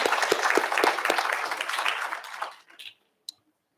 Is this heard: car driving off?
no